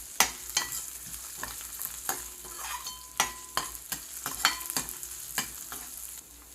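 Spices tempering in hot oil with salt in a pan give a close, steady sizzle and crackle, broken by frequent sharp scrapes and clacks from stirring. No voices.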